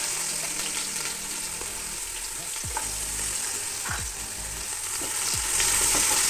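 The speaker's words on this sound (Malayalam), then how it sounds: "ഉള്ളി ഒന്ന് വറുത്തെടുക്കുകയാണ്" Onions frying in palm oil in a pan for a chicken curry: a steady, loud sizzle with occasional scraping stirs, close up and continuous.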